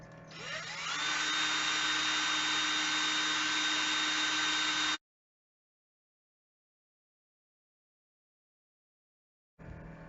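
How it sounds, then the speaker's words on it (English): A power drill whirs steadily at close range for about five seconds while drilling a hole from the inside to mount a USB charger, stops abruptly, then starts up again briefly near the end after a silent pause. "I'm gonna drill it from inside first"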